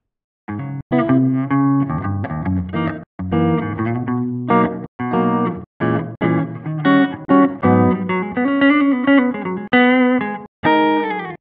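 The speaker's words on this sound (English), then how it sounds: "this will give me a real nice, clean, chimey, jazzy sound" Clean electric guitar with a bright, chiming tone playing jazzy chords and melodic phrases, with short pauses between runs and no talking.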